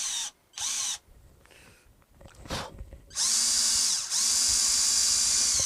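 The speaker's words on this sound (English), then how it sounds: "I'm not drilling all the way through, I'm just drilling all the way through so I can mark up the second piece." A power drill bores holes into a wooden fretboard radius block. Two quick whirring bursts come first, then a few quieter clicks and knocks, then a loud, sustained whine, all close by with no talking.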